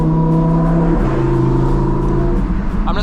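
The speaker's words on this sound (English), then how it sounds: "The burbles on this car are absolutely insane." An Audi R8 drives through a tunnel with a loud, steady engine drone and exhaust rumble. The note shifts as it changes speed, and a few crackling burbles come near the end.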